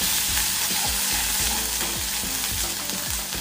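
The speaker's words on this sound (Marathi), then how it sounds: "कढईमध्ये अर्धा चमचा तेल गरम करून घ्यायचं मसाल्याचं वाटण घालायचं तेलावर थोडं परतवून घ्यायचं" Steady, loud sizzling of ground spice paste frying in hot oil in a kadhai for patvadi bhaji, with repeated soft scraping strokes of stirring throughout.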